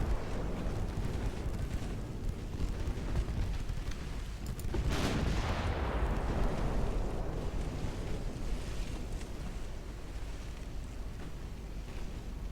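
A torpedo detonation during a naval battle in Ultimate Admiral Dreadnoughts, set in an 1900 British campaign: a broad, booming blast rises midway out of steady wind-and-sea ambience, then fades into a long rumbling wash with no talk.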